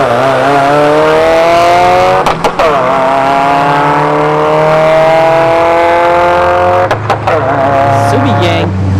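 A Subaru WRX and a Pontiac Grand Am launch side by side at a dragstrip, engines revving hard and climbing through gears with sharp shift breaks, loud and close, while a voice talks over the noise.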